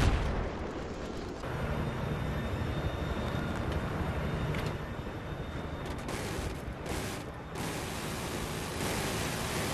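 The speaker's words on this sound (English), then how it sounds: "Ian, keep shooting at the tank." Tank combat in Battlefield, with a dense, continuous roar of gunfire and explosions running steadily throughout, loud and rumbling with a few sharper bursts near the end.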